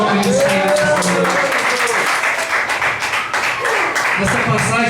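A church congregation clapping hands in worship, rhythmic claps mixed with singing or speech and music throughout.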